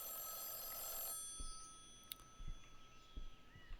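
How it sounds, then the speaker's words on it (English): A video game telephone rings with a bright, electronic bell tone for about a second, then cuts off, leaving faint scattered clicks and thumps in a quiet room. "Let's see if brother has anything to say about the ringing phone."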